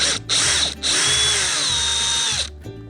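A power drill driving a screw into a Chris Craft boat hull whirs loudly in short bursts, pausing twice, then a long steady run that winds down as the screw seats.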